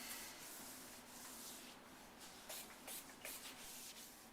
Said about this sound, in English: Now we finished buffing off number 4 with the microfiber towel